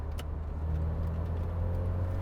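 A 1996 MG F with its 1.8 VVC engine hums steadily from inside the cabin, a low, even drone that swells slightly partway through as the revs rise during a rev-matched downshift, with no talking.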